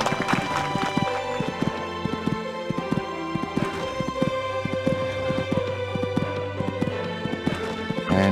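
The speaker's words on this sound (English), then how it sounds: "And a very controlled canter here." Horse hooves cantering during an eventing dressage test in the Equestriad 2001 game, a steady rhythmic clip-clop of close, even footfalls across the whole stretch over background music.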